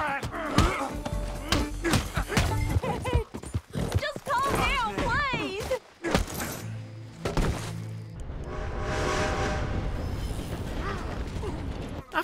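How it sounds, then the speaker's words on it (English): Horse riding in Red Dead Redemption 2, with hoofbeats, creaking tack and mechanical game sounds mixed among busy effects and a horse's whinny, while a voice talks over parts of it. "Come on, horse. We're leaving."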